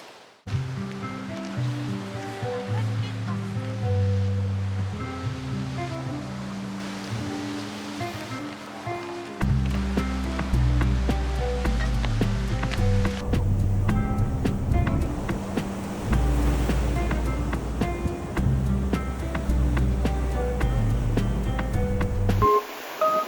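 Ocean waves roll and crash onto the shore at Gangneung, South Korea, in a continuous loud roar, swelling heavier midway through, with no voices.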